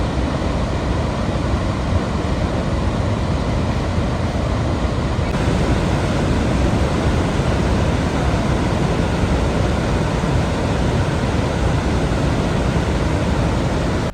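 Victoria Falls in Zambia roars as a constant, loud broadband rush of falling water, unbroken and steady, with a slight wind buffet on the microphone.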